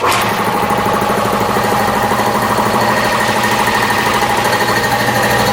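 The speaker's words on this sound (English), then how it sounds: "Cobalt, a 60-gallon, 175 psi air compressor, works great." A Cobalt 60-gallon, 175 psi air compressor runs close by with a loud, steady, rapidly pulsing mechanical drone that holds unchanged from start to finish.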